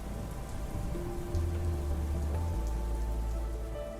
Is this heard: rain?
yes